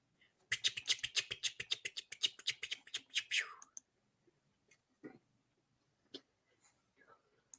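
Rapid, close keyboard typing in a quick burst of crisp clicks for about three seconds, then a few scattered taps amid near silence.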